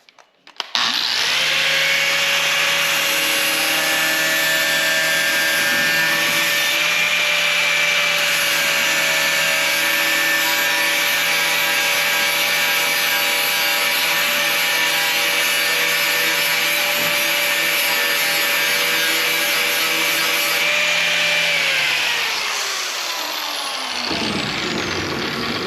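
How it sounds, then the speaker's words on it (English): Grinder cutting along the edge of the front nose panel of a 1969 VW Bus, a loud, steady high-pitched metallic whine with grinding rasp that holds for over twenty seconds, then winds down as the tool spins off. "So what I'm going to do is I'm going to grind this edge free."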